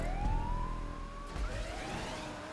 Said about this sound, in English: I keep hearing sirens